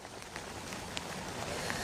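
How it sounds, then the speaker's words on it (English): Heavy rain from the remnants of Tropical Storm Arthur pours down in Louisiana on the Gulf Coast, a steady, dense hiss with scattered sharper drop impacts and no voices. "As you can see, the rain here is coming down."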